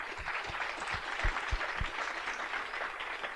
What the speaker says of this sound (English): I want to give all our panelists a big round of applause.